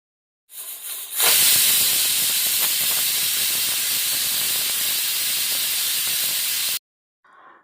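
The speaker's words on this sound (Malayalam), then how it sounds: "ഇനി കുക്കർ മൂടി വെച്ച് ഒരൊറ്റ വിസിൽ നമുക്ക് അടുപ്പിച്ചെടുക്കാം" A pressure cooker holding chicken biryani vents steam in one loud, sustained hiss lasting several seconds, preceded by a brief rattle of the weight and ending abruptly, then a short faint burst.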